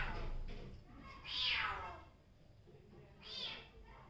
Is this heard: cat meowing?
yes